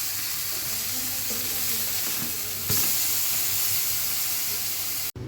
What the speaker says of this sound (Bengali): বেগুনটা মশলা খুবই নরম, একদম তুলতুলে, দুটোই ভাজি হয়ে যাচ্ছে